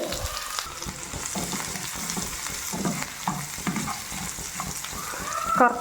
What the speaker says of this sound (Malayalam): നമുക്ക് കുറച്ച് ജീരകം, ഗ്രാമ്പു, ഏലക്ക, വെളുത്തുള്ളി ഒന്ന് നന്നായിട്ട് മൂപ്പിച്ചെടുക്കുന്നുണ്ട് കേട്ടോ